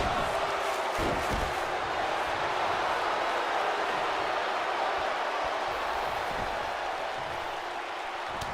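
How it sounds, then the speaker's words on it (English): A wrestling video game crowd in WWE 2K22 roars in a steady, dense wash of chanting and cheering that fills the whole stretch, loud and continuous with a few sharper bursts near the start. "Crowd chanting, "This is awesome.""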